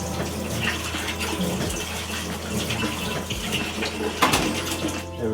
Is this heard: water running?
yes